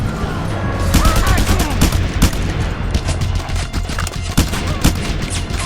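Dense gunfire from Just Cause 2, rapid bursts and single sharp shots overlapping loudly with explosive booms and constant game noise throughout.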